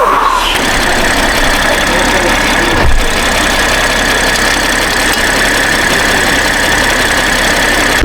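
A BMW M440i idles with aftermarket loud intakes fitted, giving a steady, close engine rumble with a constant hiss through the whole stretch and a brief thump near the middle, heard alone.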